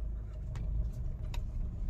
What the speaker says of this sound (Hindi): गाड़ी ड्राइव हो रही है।